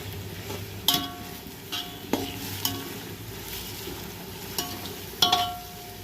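Onion frying in a pan for pulao, a soft steady sizzle under scattered sharp clinks and scrapes of a spoon stirring against the metal pan.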